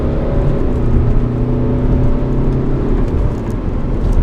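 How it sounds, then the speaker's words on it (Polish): A BMW X1 2.0D diesel accelerates at full throttle, its engine drone steady and loud from inside the car, building without pause. "zobaczymy, jak samochód nam zareaguje w momencie, kiedy wciśniemy pedał gazu do końca"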